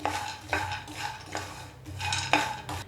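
A spoon stirs peeled peanuts with spices in a pan, giving a few distinct metallic scrapes and clinks in an uneven rhythm, fairly quiet and close, with no talking.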